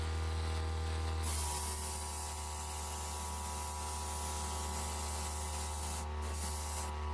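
Steady aerosol spray hiss applying light coats of paint to an HO scale Pandrol Jackson model, a continuous near, even rush with brief pauses between passes over a low background hum.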